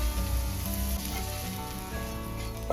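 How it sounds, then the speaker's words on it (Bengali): Green beans fry in a hot pan, giving a steady close sizzle with soft crackles throughout, no voices present. "চলো এবার বিনসগুলো ভেজে নিই"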